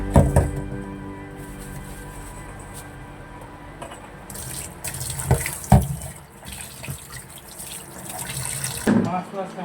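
Tap water runs steadily into a sink while fish is rinsed for cooking, with splashing and clattering bursts of handling partway through and near the end, heard up close without talk.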